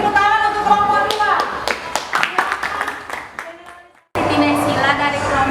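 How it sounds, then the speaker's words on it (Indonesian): Students in a classroom clap for the second group, a burst of close, uneven hand claps and taps over the room's murmur, stopping abruptly before a voice begins speaking. "beri tepuk tangan untuk kelompok 2"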